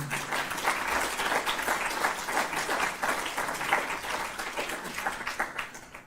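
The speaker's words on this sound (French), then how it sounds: "vous pouvez les applaudir encore une fois" Conference audience giving sustained applause, dense even clapping from many hands that holds steady throughout at a strong, fairly close level.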